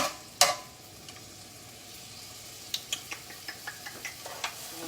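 Onions sizzle softly in a pan on a flat bread cooking setup, with a sharp clack early on and then a quick series of light scraping and tapping strokes as they are pushed around.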